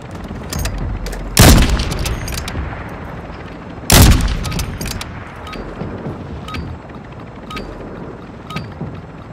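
Gunfire in Call of Duty: Modern Warfare II: two loud sharp bursts stand out, with scattered fainter shots and rattling in between over a steady battlefield bed.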